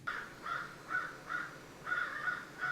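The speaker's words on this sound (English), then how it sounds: "There's a bird outside my window, apparently yelling at me." A crow caws repeatedly outside a window, harsh calls coming in irregular bursts of two or three at moderate distance, with no talk over them.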